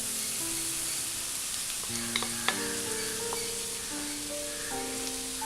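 Crumbled bread sizzling in hot oil in a pan for bread upma, a steady close hiss with a few soft clinks and stirring scrapes; no talking.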